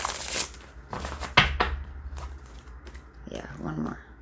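A deck of cards being shuffled during a tarot-style reading, with a few soft riffling bursts and snaps at close range, partly under quiet talk.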